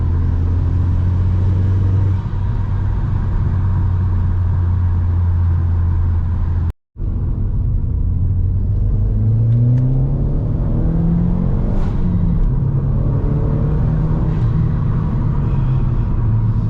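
A Mk1 Seat Leon Cupra R drones from its exhaust while cruising, a steady low boom with rising and falling engine tones, heard from inside the car and broken by one brief dropout.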